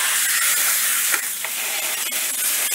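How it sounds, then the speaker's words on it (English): Steady hiss of lamb steak sizzling in a hot, smoking pan, loud and close, with faint crackles and pops breaking through. "You want to get it pretty hot. You want it to sizzle"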